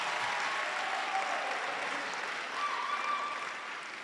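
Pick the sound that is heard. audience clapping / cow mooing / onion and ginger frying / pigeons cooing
audience clapping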